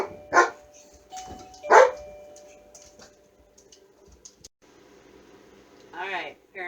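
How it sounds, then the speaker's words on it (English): A neighbor's dogs bark two sharp, loud times in the first two seconds, then fall quiet apart from faint ticks. A softer whine or yelp follows near the end. "apparently my neighbor is home, so the dogs were letting us know that I am back"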